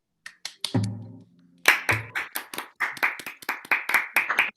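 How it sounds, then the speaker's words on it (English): A few people clapping for Josie on a remote call, scattered uneven claps close to the microphone, broken by a short low voice sound near the start. "We're going to give a big round of applause finally to Josie."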